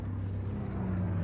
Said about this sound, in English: Altitude bomber inbound.